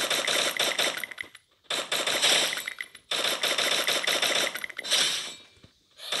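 Rapid bursts of automatic gunfire in the Free Fire battle royale video game, loud and close, arriving in several long rattling volleys separated by short gaps.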